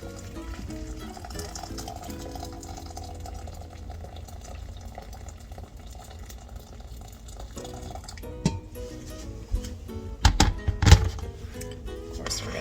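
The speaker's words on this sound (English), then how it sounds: "Carefully pour that into our pouch." Boiling water pours and gurgles steadily into a dehydrated camping meal pouch for several seconds, followed by a few close thunks and crinkling knocks.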